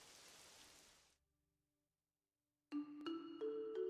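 Rain falling in the video game Pokopia, a soft hiss of rainfall that fades out after about a second, then gives way to bright tonal game music chimes.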